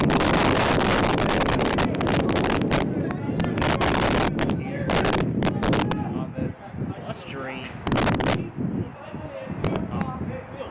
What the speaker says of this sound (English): As you can hear, the wind is a little windy today